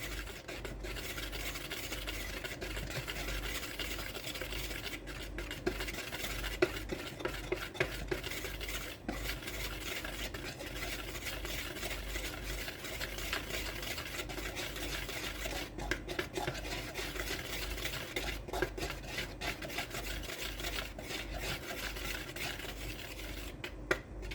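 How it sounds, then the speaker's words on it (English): Whisking a cocoa mixture in a bowl for homemade Oreo-style cookie dough, a steady close rasping, rubbing swish that runs continuously without pause, with faint clicks of the whisk against the bowl. "we are going to whisk this until well combined"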